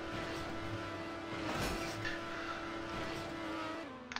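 A Formula 1 racing car engine from a video game drones at a steady high pitch, loud and continuous throughout, with a brief swell midway as if passing or shifting, then a drop in pitch near the end.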